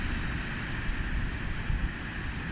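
Small sea waves wash onto a shore in a steady low rumble of surf, blended with gusty wind buffeting the microphone, with no voices.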